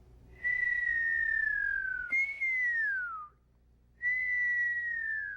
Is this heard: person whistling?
yes